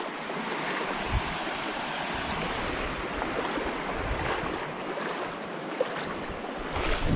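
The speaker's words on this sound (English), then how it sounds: "there's no avoiding getting your feet wet on this crossing" Water rushes and splashes continuously as a hiker wades through a stream crossing on the Pinhoti Trail, a dense, close, steady wash of moving water with occasional louder sloshes and no talking.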